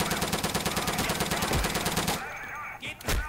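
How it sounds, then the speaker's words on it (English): Rapid bursts of gunfire in the multiplayer shooter Day of Infamy, a loud steady machine-gun rattle that stops abruptly and is followed by a few sharp isolated shots. "somebody's shooting at us"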